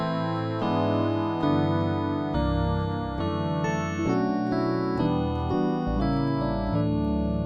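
An electronic Rhodes patch on the FM8 synthesizer with its envelope amount adjusted plays a rhythmic sequence of bright, bell-like electric piano chords and bass notes, with steady repeated attacks and no voices.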